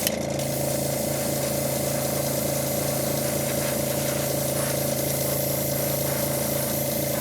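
A steady, continuous hiss of an airbrush spraying paint in a bumblebee pattern runs the whole time, with a constant mechanical hum beneath it and no talking.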